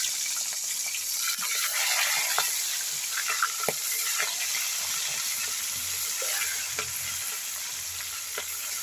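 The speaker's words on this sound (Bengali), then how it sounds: "তো আমার তেল গরম হয়ে গেছে, আমি এবার এর ভেতরে মাছগুলো এক এক করে ছেড়ে দেবো।" Giant freshwater prawns dropped one by one into hot oil for a prawn malai curry, frying with a steady bright sizzle and crackle, close and continuous, with occasional soft pops and stirring clicks.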